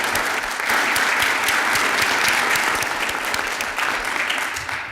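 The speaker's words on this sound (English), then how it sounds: "Let's give them a round of applause." Audience applause for military veterans standing at a town council meeting: steady, full clapping from a room of people that holds strong for several seconds before easing off.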